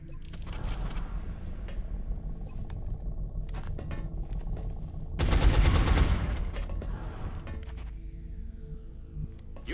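Gunfire from the video game XCOM Enemy Within, a low rumbling game soundscape with a burst of heavy rapid firing in the middle, fairly loud, then settling back to quieter background effects.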